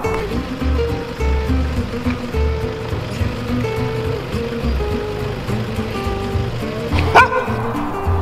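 Several dogs bark and yip repeatedly at a distance over a steady outdoor rumble, their calls overlapping in an irregular chorus.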